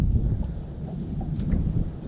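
Wind gusts steadily across a lake during bass fishing on Allatoona, giving a low, continuous rumble of wind buffeting the microphone with no voices.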